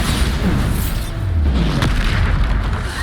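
The Bombarda spell in the video game Hogwarts Legacy sets off a loud, deep explosion. A boom rumbles and rolls on for several seconds, with a few sharper bursts mixed in, and no voices are heard.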